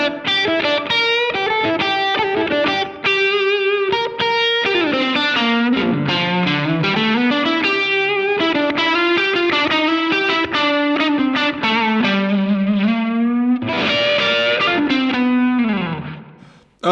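Electric guitar played through a Dophix Michelangelo effects pedal with boost engaged, distorted sustained notes, bends and sliding phrases with chorus-like shimmer, loud and continuous for most of the passage before fading out at the end.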